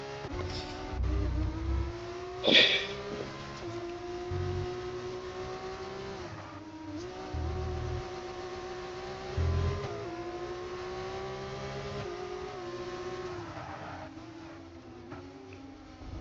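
Race cars in a racing video game, from the Velocita Competizione league, accelerate and rev continuously, engine notes rising and falling as they jostle, with a brief sharp burst near the start and a steady loud drone throughout.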